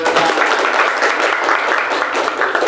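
Students clap in an Indonesian classroom, a brisk continuous patter of many hands, fairly close and loud, without a break for nearly three seconds.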